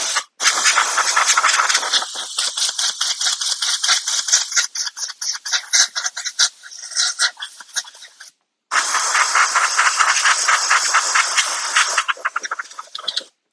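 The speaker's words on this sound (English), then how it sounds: "Get the air compressor. Spray this thing off first." A loud, steady hiss of compressed air from an air compressor blasts in long sputtering bursts onto a spalted tamarind wooden bowl, briefly cutting out midway before resuming, close and continuous.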